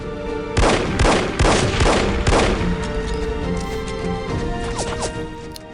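Gunshots in the No One Lives Forever video game: several loud, sharp blasts in quick succession, each with a ringing tail, followed by quieter game sounds.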